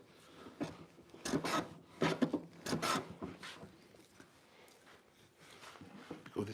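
A hand plane works across rough sawn figured wood in a run of slow, rasping strokes, about six distinct swishes close up and fairly quiet, tapering into faint scraping.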